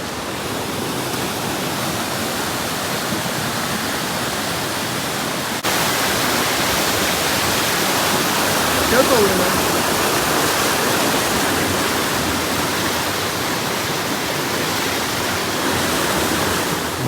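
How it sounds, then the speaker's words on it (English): Roaring Fork Falls along the Blue Ridge Parkway, heard from the bottom of the waterfall as a loud, steady rush of falling water that swells slightly partway through and continues unbroken with no talking. "We hung out at the bottom of the waterfall for a few minutes"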